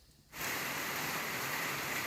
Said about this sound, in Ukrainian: Розпочався сильний дощ, тож трішки його перечекаємо та їдемо додому.